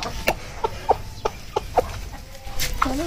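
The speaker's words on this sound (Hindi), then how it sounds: "अब ये सिर्फ मुर्गा और मुर्गी रह गए हैं, इनको दाना डालना ताकि ये भी खा सके" A rooster and hens at a mini zoo cluck while pecking at scattered grain feed, giving short separate clucks in a loose rhythm about every half second, close by, ending in a rising call.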